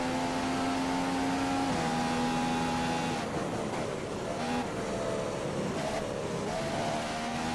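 Race car engine from a Codemasters racing video game at the Bahrain circuit, a loud steady drone holding pitch, then dropping and shifting through gear changes, running continuously throughout.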